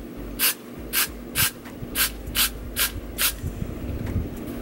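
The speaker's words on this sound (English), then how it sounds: "we're gonna go back and spray some more freeze blast" Short hissing bursts of freeze-blast hairspray sprayed onto the hairline of a curly pixie-cut lace front wig, eight quick evenly spaced spritzes at close range, with no talking.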